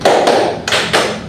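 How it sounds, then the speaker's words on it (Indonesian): Hands clap sharply in a classroom, four distinct counted claps in a steady rhythm, close and loud with no talk over them. "Tepuk satu, tepuk dua, tepuk tiga, tepuk empat"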